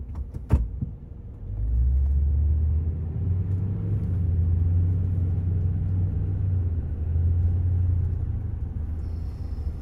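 An AMG Mercedes pulls out on a city boulevard with a low, steady engine rumble that swells after a short click and holds at moderate loudness throughout.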